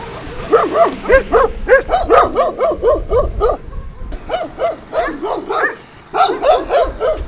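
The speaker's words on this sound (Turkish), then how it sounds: "Oğlum bu köpekler var ya. Çok sıkıntı. Biri havlıydı hepsi havlıyor işte." Several dogs bark together outdoors, a loud rapid chorus of overlapping barks and yips that pauses briefly before starting up again close by.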